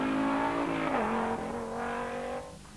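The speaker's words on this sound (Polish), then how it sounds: "Za sterami tego bardzo głośnego auta Wojciech Nosalik i Eryk Szafrański." A very loud Audi Quattro rally car races in a 1994 Polish rally championship stage, its engine roaring close by with a strong, steady pitch that sags briefly and then climbs again before easing off.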